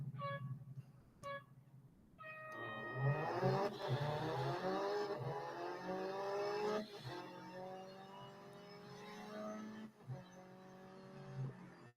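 Hyundai i20 N Rally1 hybrid rally car racing in Real Racing 3: engine note climbs loud through rising gear pulls, shifting and revving, with brief game beeps at the start and a drop-off near the end.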